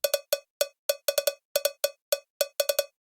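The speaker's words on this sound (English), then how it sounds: "there's this funny cowbell sample that sounds like this" A 90s cowbell sample from a sample pack, bright metallic tonal hits played in a syncopated rhythmic pattern, about twenty quick strikes, clean and close with no other sound.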